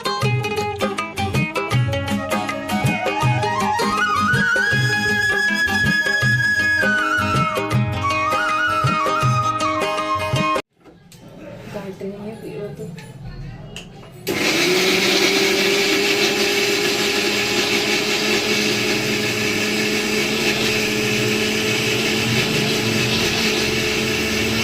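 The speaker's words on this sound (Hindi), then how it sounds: "अब यहाँ पर मिक्सी में इसको पीस लेते हैं, एकदम बारीक सा हमें पेस्ट बनाना है।" Electric kitchen mixer grinder whirring as it blends cooked onion and tomato into a fine paste, a loud continuous motor whine that cuts out briefly, then starts up again and runs steadily.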